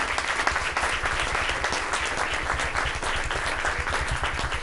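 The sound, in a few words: audience applause for youth sports teams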